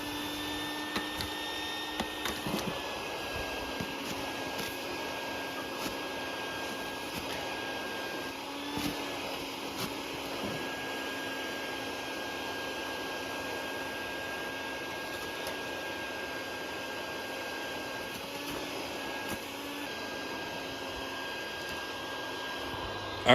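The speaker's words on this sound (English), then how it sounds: "if you are trying to vacuum up as many as you can, the easier it is while that nest is still there" A vacuum hums steadily while sucking bald-faced hornets out of a nest in a garden. The motor drone is continuous and fairly even, broken by occasional faint clicks and knocks from the hose.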